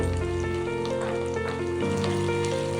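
Green peas frying in a pan with ginger-garlic paste for soya biryani, a steady close sizzle with light crackles and pops throughout, no talking.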